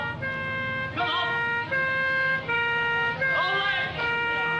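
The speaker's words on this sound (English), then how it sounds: "Get that siren off." An emergency vehicle siren wails on a 1960s British street, a loud, steady tone that repeatedly warbles and shifts pitch close by.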